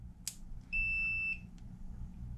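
A single clean electronic startup beep from the BLDC motor controller of an electric go-kart conversion, a steady tone of about half a second preceded by a faint click, over low background hum.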